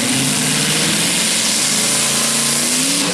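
A super modified pulling tractor with multiple engines and a blower roars loudly and continuously at a night pulling event, its pitch rising slightly as it revs. The sound is dense and close, with no speech.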